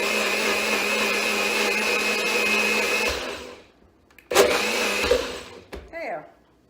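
A blender whirs loudly as it mixes bananas, almond milk and lemon juice into a healthy muffin batter. It runs for about three seconds, stops, then gives one shorter burst before falling quiet.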